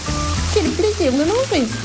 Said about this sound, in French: Et ça grésille.